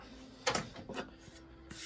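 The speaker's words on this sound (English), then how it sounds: "a tiny little bit of sanding will have that smoothed off beautifully" A few short, soft rubbing strokes of sandpaper on a wooden edge of a hand-cut dovetail box, close by and quiet, with brief pauses between passes.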